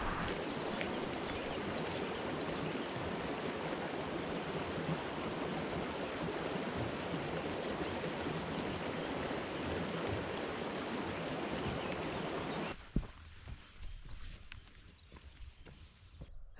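Water from a salty spring fountain on a mountain trail, running in a steady close splash and gurgle that stops abruptly near the end, leaving faint outdoor background and a few small knocks.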